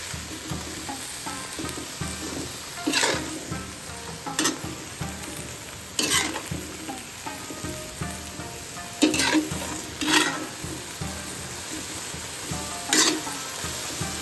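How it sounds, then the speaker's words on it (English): Seafood stir-fried in a wok, a steady close sizzle broken by periodic scraping strokes of the spatula at an irregular rhythm, with no voices. "Stir fry slightly."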